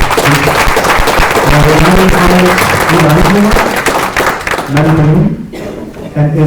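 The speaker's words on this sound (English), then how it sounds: "A round of applause for our speakers." Applause from a conference audience for the speakers at a session on responsible industry and sustainable development, a loud continuous wash of clapping that fades toward the end, with a voice speaking over it.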